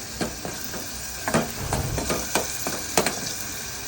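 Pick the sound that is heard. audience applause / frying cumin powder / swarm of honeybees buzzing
frying cumin powder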